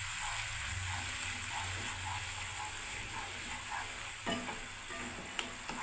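Spiced water mixed with ground cumin and coriander is poured into a sizzling tomato masala, giving a steady, close frying hiss throughout with a brief splash of liquid near the end, and no talk.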